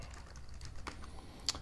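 Keys clatter on an ancient computer keyboard, one so old it lacks a Windows key, in a quiet run of faint, uneven clicks with a slightly sharper tap near the end.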